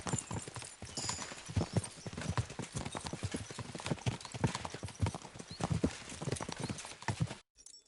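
Horses gallop in the video game Kingdom Come: Deliverance II, their hooves pounding in a rapid, uneven clip-clop rhythm, close and moderately loud, with a brief whinny and faint voices in the mix.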